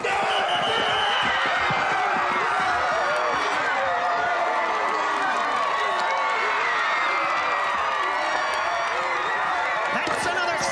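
Homecoming football crowd in a stadium cheering and roaring after a touchdown, a dense, loud and steady wall of shouting voices and applause that fills the whole stretch without pause.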